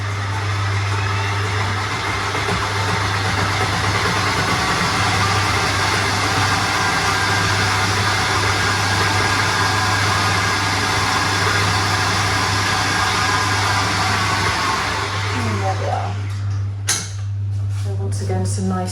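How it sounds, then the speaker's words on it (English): Garlic butter whipped in an electric mixer, a steady loud motor whir droning for most of the stretch before a few clattering knocks near the end. "doing it in a machine, actually you are adding more air into that butter"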